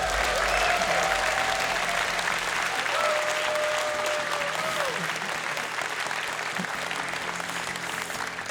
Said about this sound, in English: Give a round of applause for the judges.